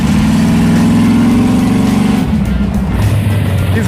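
Rear-engine mini truck on an autocross course, its engine droning loud and steady, pitch wavering as it powers through the pass and then easing off near the end.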